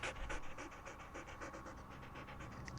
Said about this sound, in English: It freaks me out that their chest doesn't move when they're panting